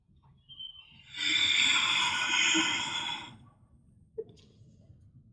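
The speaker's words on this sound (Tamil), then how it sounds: "ஆழ்ந்த மூச்சு உள்ளே இழுத்து வெளியே விடலாம்" A slow, deep breath during a yoga session for back pain, a long airy exhale lasting about two seconds, close and clear, followed by a quieter intake and a faint click against a soft background.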